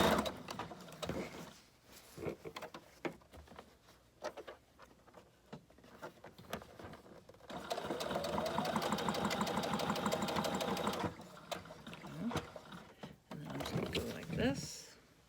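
A sewing machine runs a straight stitch through a layered fabric junk journal cover made from a bubble mailer, a fast close whirring patter lasting a few seconds among handling clicks, with a person speaking.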